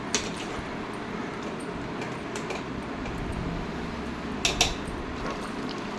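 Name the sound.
stirring murungakai thokku in a pan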